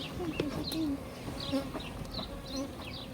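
A steady bee buzz hums close by during a hive relocation, with a few higher chirps drifting through the background.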